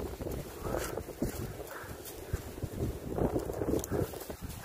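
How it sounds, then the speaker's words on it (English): Strong hurricane wind buffets a campsite tarp, a steady loud roar of gusts hitting the microphone with irregular flapping thumps and rustles throughout, no voices. "That's gonna keep the wind out. Stop the flapping."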